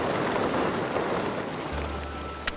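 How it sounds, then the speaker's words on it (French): Rain and hail lashing down in a windswept storm during an expedition, a dense, steady roar of hard drops with a low rumble near the end and a brief sharp knock just before it stops. "Il pleut, qui grêle."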